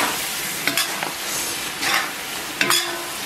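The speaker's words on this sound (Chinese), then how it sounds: "继续给它翻炒一下" Minced garlic and chives are stir-fried in a wok for a pork liver and lung dish, with a loud steady sizzle broken by several sharp scraping strokes of a spatula against the metal.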